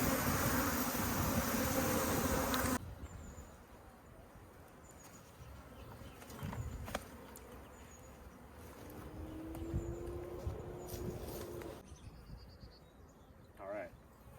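Honey bee swarm buzzing at a hive during a swarm shake, a steady soft drone under outdoor background noise, with louder handling rustle at the start and a brief closer buzz near the end.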